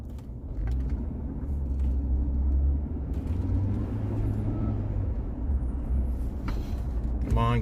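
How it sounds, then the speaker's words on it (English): Friday traffic before Christmas heard from inside a car: a steady low engine and road rumble fills the cabin, with brief faint sounds from outside and a muffled voice now and then. "This is Friday traffic before Christmas."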